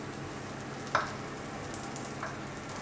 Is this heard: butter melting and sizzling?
yes